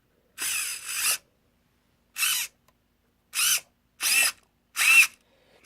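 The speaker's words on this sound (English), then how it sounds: "I know that servo's loud." Cheap servo motor steering a Tamiya Hotshot RC car: five short, loud whirring bursts with pauses between them, up close, with no talking.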